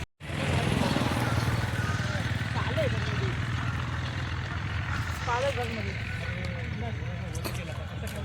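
A tractor engine runs near a village in Harda district, India, with a steady, close, continuous drone throughout and faint voices around it.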